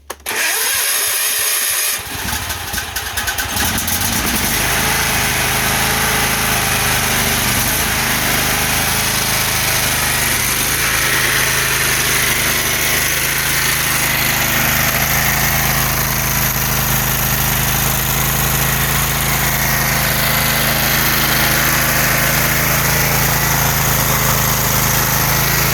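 A small engine fitted with a homemade air filter adapter runs steadily and loudly for the whole stretch after a brief start, a constant close-up drone with no talk over it.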